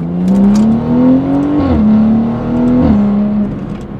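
A BMW F30 340i with tuned software accelerates hard through the gears, its engine note rising steadily, then dropping at two quick shifts, loud and close from inside the car.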